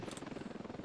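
A steady rhythmic helicopter rotor chop in the video game Ravenfield, faint and distant, with a rapid regular thumping pulse.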